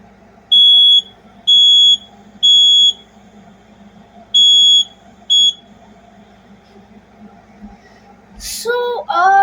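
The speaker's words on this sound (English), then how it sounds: "first alert smoke detector." A First Alert smoke detector sounds loud, shrill close-range beeps in an uneven pattern of five bursts, followed by a brief burst of voices near the end.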